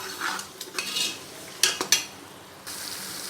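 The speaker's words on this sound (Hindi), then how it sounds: "सारा गरम मसाला अंदर डाल के इसको फ्राई कर लेते हैं" Whole garam masala spices (bay leaves, black peppercorns, cloves, cinnamon and cardamom) fry in hot oil, with a soft sizzle broken by a few sharp clicks and scrapes of a utensil against the pan.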